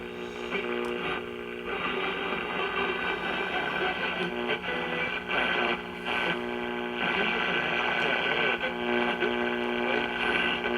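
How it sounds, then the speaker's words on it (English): Static hisses and crackles from a 1956 Motorola 56R radio tuned near the low end of the band, a steady noisy wash with faint tonal bits, moderately loud and continuous. "There's a lot more static down here on the bottom end of the band"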